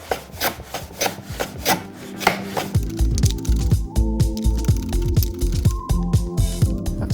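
A snug wooden drawer for a Shaker table rubs and scrapes as it is pushed into its opening, a run of rhythmic wooden strokes followed by a steadier, denser grinding drag, close and fairly loud, with no talking.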